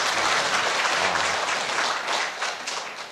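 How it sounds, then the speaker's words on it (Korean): Steady applause from an audience at a Saturday Buddhist dharma service at a temple, dense and continuous clapping throughout at moderate loudness. "박수 쳐주세요."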